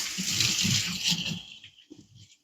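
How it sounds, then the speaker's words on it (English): A kitchen tap runs loudly as hands are rinsed under it, with the splashing cut off partway through and a few drips and brief rustles afterward. "wash my hand off"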